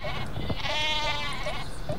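A sheep bleating in Worms Reloaded video game, one drawn-out wavering bleat in the middle, close and clear over a busy game background with faint clicks.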